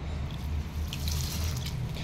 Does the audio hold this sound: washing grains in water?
yes